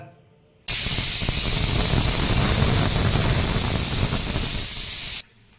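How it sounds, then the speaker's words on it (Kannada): A pressure cooker lets off a loud, steady rush of hissing steam for about four and a half seconds while biryani cooks, starting and stopping abruptly. "ಕುಕ್ಕರಲ್ಲಿ ಒಂದು ವಿಸಿಲ್ ಆಗಿದೆ"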